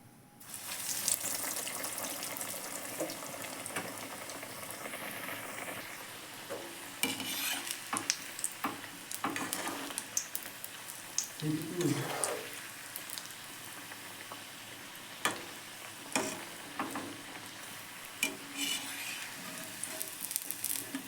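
Vegetable chops frying in hot oil, a dense, continuous hissing sizzle that runs throughout, with occasional clatter of a slotted spoon lifting pieces out of the pan.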